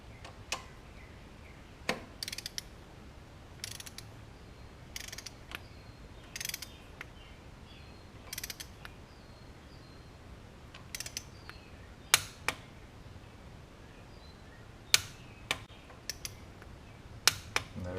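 A wrench tightening a 15 mm bolt on the AC compressor of a Chevy Suburban GM truck, heard as sparse sharp ratcheting clicks and metallic taps scattered over a quiet background, with no voices.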